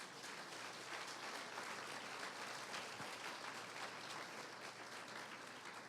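Church congregation applauding steadily, a dense, even wash of clapping from a large crowd that fills the space for several seconds without a break.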